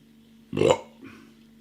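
A single short, close burp after drinking a mango and ginger India pale lager, loud and throaty, followed by a softer exhale over a low background hum.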